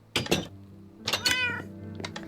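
Cats meow in the Minecraft video game, with several distinct, bright meows in two clusters. Between them are soft thumps and quiet game noises.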